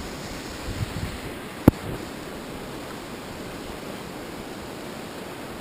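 High-tide waves rush into a marshy shoreline under strong wind, giving a steady broadband roar that runs throughout, with one brief sharp knock partway through.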